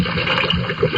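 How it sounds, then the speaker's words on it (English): Wooden submarine pushed out into the water, a brief splashing and gurgling wash of water that stays close and steady for about a second. "All right, push him out into the water."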